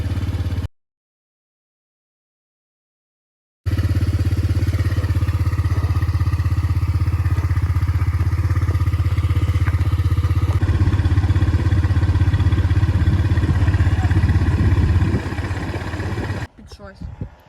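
Spark 175 motorcycle engine running while riding, a steady loud drone with a rising roar partway through, continuing under people talking before cutting out briefly near the end.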